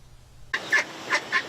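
Ducks at a park give a few loud, close quacks in quick succession, three or four sharp calls against quiet background with no talk.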